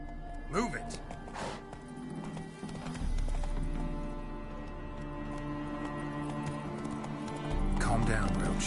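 Rhythmic hoofbeats of a galloping horse in the video game The Witcher 3: Wild Hunt continue at a steady pace, with a brief whinny early on and a low rumbling background throughout.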